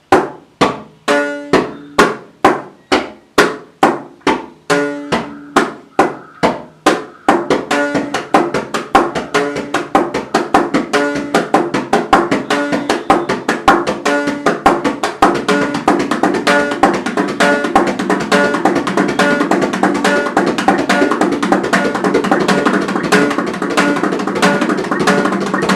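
Carnatic laya lesson percussion: sharp hand-struck drum strokes open alone in a steady, spaced rhythm, then a second percussion part joins and the combined pattern turns dense and continuous at an even, loud level.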